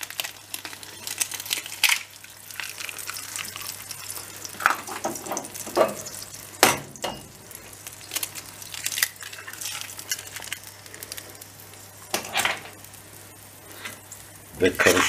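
Eggs stirred into melted cheese and peppers in a frying pan, soft crackling sizzle with irregular scraping and tapping strokes, fairly close, with a person speaking at times.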